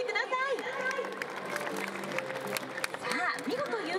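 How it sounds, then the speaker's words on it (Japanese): Audience applause at a Chiba Lotte Marines stadium vendor pennant-race award ceremony, a dense steady patter of many hands filling the hall, with voices and crowd chatter mixed through it. "改めて大きな拍手をお送りください"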